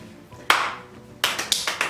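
A few sharp claps ring out, one, a pause, then three quick ones, close and loud over a quiet background.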